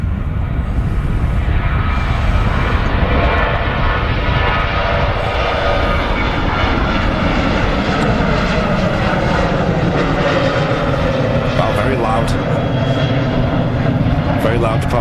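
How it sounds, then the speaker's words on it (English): A Ryanair Boeing 737 roars loudly on departure from Manchester Airport, a continuous heavy jet engine rumble filling the whole stretch as it climbs steeply, with a voice speaking over it. "Very loud departure on the 737."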